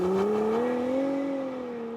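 A 2024 Porsche Cayenne performance SUV launches hard under launch control, its engine note rising steadily in pitch as it accelerates, loud and close with no talking.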